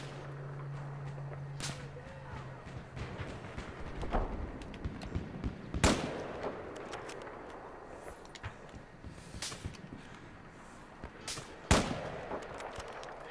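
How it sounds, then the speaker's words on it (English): Sniper rifle shots in the Battlefield 4 multiplayer game, several sharp cracks spaced irregularly over a low background, with faint voice in places. "it's a sniper above me who's shooting"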